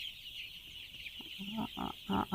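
Broiler chickens on a large poultry farm cluck in a few short bursts over a steady mechanical hum, the calls growing louder and closer toward the end.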